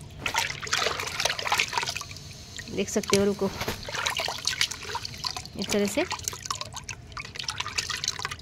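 Liquid fertilizer made from soaked, decomposed egg trays trickles and splashes from a container into a plant pot in short pours, with someone talking in Hindi between and over them.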